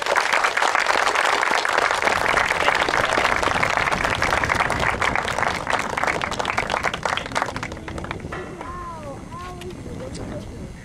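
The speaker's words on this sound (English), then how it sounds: "I think that deserves a round of applause." A large crowd at a gathering in Maine breaks into a loud, sustained round of applause that fades after several seconds, leaving scattered claps and a voice.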